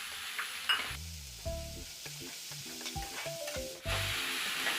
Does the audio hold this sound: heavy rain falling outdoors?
no